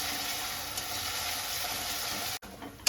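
Ginger garlic paste being fried and stirred with onions in a home kitchen pan produces a steady, soft sizzle that briefly drops out near the end before resuming.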